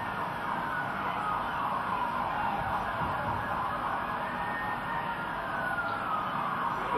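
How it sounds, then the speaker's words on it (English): A police car siren wailing as the car moves through a crowd at a protest, with a continuous, loud sweeping tone over a dense wash of crowd and street noise. "the police car drives right through the crowd"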